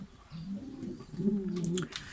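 Pigeons coo in low, soft, throaty rolls close by, with a few faint chirps from other birds in the background.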